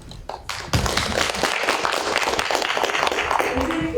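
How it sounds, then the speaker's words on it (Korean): An audience at a public hearing on a city landscape plan claps in welcome, dense applause swelling after a few scattered early claps and continuing steadily and fairly close. "큰 박수로 환영해 주시기 바랍니다"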